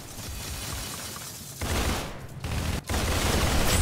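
Bursts of rapid gunfire from the Arsenal video game, with dense firing that breaks off briefly twice and resumes, loud and close throughout.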